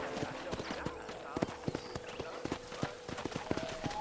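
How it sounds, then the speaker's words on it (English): Horse hooves clip-clop steadily in the video game Red Dead Redemption, a close, rhythmic series of sharp knocks with a brief whinny, as a voice talks over them. "I picked out a fine horse for you."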